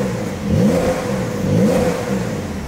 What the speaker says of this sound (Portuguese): Eu coloquei o cinto pra acelerar parado, velho.